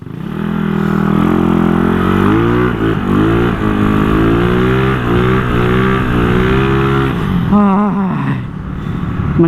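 A motorcycle engine revs hard and steadily while the rider holds a wheelie, a loud close drone with rising and falling pitch and a sharp throttle blip near the end.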